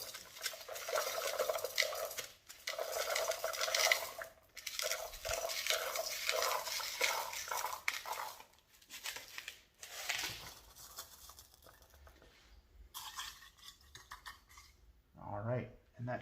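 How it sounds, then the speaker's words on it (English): Ceramic tumbling media, a washed mix of large and small pieces, clatters and rattles steadily into a lot-o tumbler barrel, close and busy, thinning out toward the end with a few last scrapes. "So we'll put a little bit of ceramic media."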